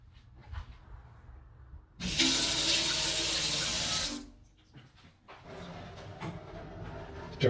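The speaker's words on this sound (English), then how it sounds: "the pump that I'm going to use in the final build" A 12-volt water pump switched on to pump spring water, a loud steady rushing hiss of flow that starts abruptly, runs about two seconds, then cuts off, with quieter clatter before and after.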